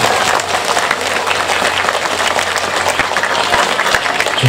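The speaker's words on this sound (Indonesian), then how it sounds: "Tepuk tangan untuk remaja masjid." An audience at a religious gathering in an Indonesian mosque applauds a mosque youth group with dense, steady clapping at close range, continuous throughout.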